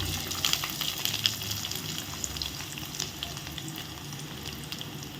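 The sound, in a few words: mustard seeds crackling in hot oil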